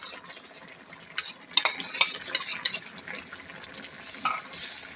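A utensil stirs flaked mackerel into a pot of Thai sour curry with cha-om omelette and mixed vegetables, giving a steady soft scraping and sloshing with a few sharper clinks, close and alone.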